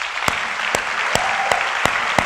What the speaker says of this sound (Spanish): Le damos un aplauso a nuestro Señor Jesús.